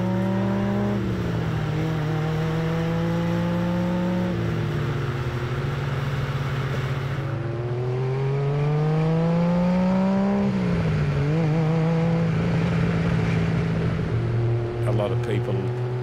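A Ferrari 275 GTB/4 engine revs and shifts through third, fourth and fifth gears, its pitch climbing, dropping and climbing again in a steady, throaty drone.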